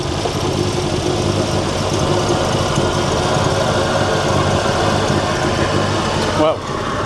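Ford Focus ST petrol engine running at a steady idle, a continuous mid-pitched drone with constant hum close by, cutting out briefly near the end; people talk over it.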